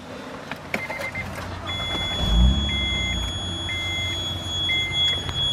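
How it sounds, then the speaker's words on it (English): A 2014 Honda Odyssey EX-L wheelchair conversion van sounds its quick lock alarm: evenly spaced, steady electronic beeps repeating about once a second over a thin continuous tone, with a low thump and faint vehicle rumble underneath. "That is the quick lock alarm."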